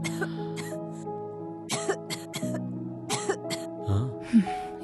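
Several short, harsh coughs and throat-clearing bursts come in uneven clusters, close and fairly loud, with a deeper raspy cough near the end.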